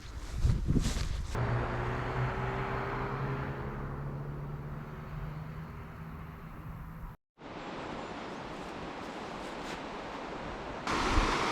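The River Białka flowing near Jurgów, Poland, a steady close rushing of water with wind noise, briefly cut out partway through before continuing.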